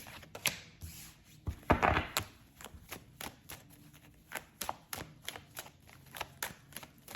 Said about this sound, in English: I be shuffling the hell out of these cards